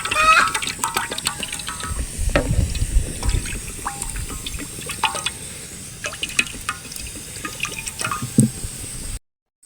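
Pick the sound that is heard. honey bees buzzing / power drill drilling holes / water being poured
water being poured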